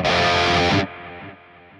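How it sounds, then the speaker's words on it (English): An electric guitar played through the tape echo effect of a Valeton GP100 multi-effects unit sounds a loud, distorted chord. Its repeats then fade step by step into quieter echoes. "T echo, it's probably tape echo."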